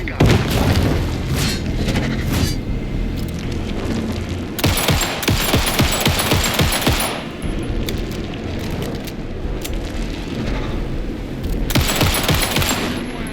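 Dense rapid gunfire and booming blasts in the Alan Wake 2 video game, loud and sustained in bursts, mixed with game voices shouting.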